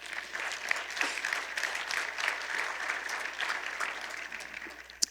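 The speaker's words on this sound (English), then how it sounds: "Let's give a great round of applause for Mr." An audience applauds a speaker's introduction at an academy presentation, with continuous, moderately loud clapping that holds steady throughout.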